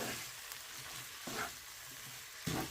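Vermicelli and beef cook over very low heat in a covered frying pan, giving a soft, quiet steady sizzle with a few brief scraping stirs.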